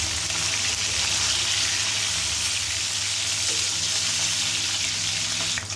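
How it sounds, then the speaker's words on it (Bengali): Pieces of rohu fish fry on their second side in hot oil, giving an unbroken, close sizzle with a soft hiss and faint crackle that holds steady throughout. "এখন আমি আর এক পাশটা ভেজে নেব"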